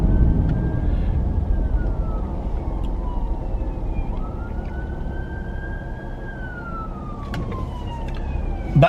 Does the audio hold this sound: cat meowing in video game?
no